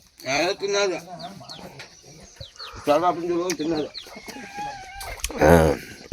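Chickens cluck and squawk close by in short bursts, with a person talking intermittently over them and a few high chirps between.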